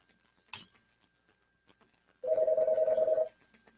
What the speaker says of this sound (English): let me answer this phone call real quick